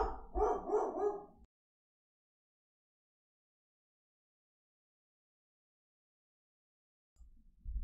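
A dog barks in a quick burst of a few close, loud yaps in an indoor room, then falls silent for several seconds before a faint low rumble returns at the end.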